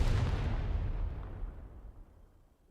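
A grenade explodes in the Arknights video game, a loud, deep boom that rumbles and fades away over about two seconds, with no voices.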